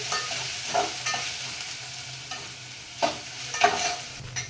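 Ginger garlic paste frying in a pot for bagara rice, with a steady soft sizzle and occasional scraping stirs of a spoon, close and alone without talk.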